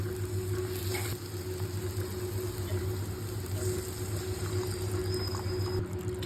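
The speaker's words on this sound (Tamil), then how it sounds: "இதில் இப்போ தண்ணி சேர்த்துக்கலாம்" Water is poured into chana masala gravy that is sizzling in hot oil, giving a steady, close hiss and crackle of frying that holds evenly throughout with no voices.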